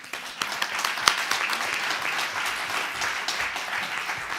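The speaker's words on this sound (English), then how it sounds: "I think we can applaud him." An audience at an AI sustainability forum in a hotel hall applauds, many hands clapping in a dense, lively patter with a few sharper individual claps standing out, sustained evenly without speech.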